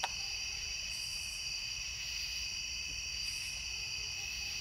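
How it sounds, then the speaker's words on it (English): Crickets chirp at night in a continuous, high, shrill trill, soft and steady, with faint intermittent pulses from other insects over a quiet background. "I hope you can hear them and enjoy these crickets."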